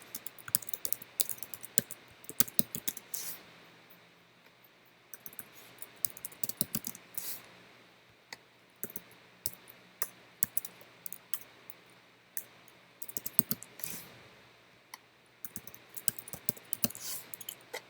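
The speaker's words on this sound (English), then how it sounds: "We can actually type that in right here." Bursts of rapid clicking keystrokes on a computer keyboard, fairly close and clear, arriving in irregular runs with short pauses between them and no talking.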